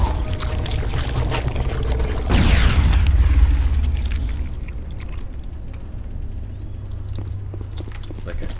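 A grenade goes off in Mass Effect with a loud boom and rolling blast, trailing into a low rumble of game ambience, while a person talks over the game audio.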